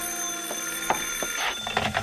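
An old-fashioned telephone bell rings in an old time radio drama, heard as a short burst of bright metallic trills close and fairly loud against a faint background hiss.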